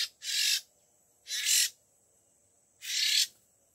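A wild oriental magpie-robin (kacer) in an oil palm plantation gives three harsh, raspy calls, each about a third of a second long, spaced at uneven intervals. The calls are loud and close, with near silence between them and no talk.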